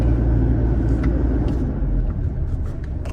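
A vehicle is ridden along the wall of Wat Phutthanimit Phu Khao temple, giving a loud, steady engine drone and low road rumble throughout.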